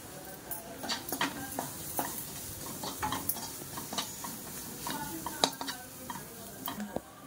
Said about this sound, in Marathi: हळद टाकून झालेले आहे। आपण मस्त मिक्स करून घेतलेले आहे।